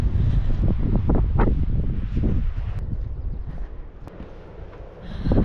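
Steady wind blows through a small stand of cypress trees on a rainy California coast, a loud, continuous rushing with microphone buffeting that eases slightly toward the end.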